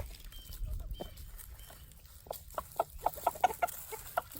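Chickens, including a rooster, cluck softly and peck at a holiday spread of watermelon, pumpkin seeds and oatmeal, the clucks growing into a quick string of short calls near the end, with no talk.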